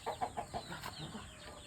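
A chicken or rooster clucking quietly, four quick rhythmic clucks at the start followed by softer low murmuring calls, close and faint.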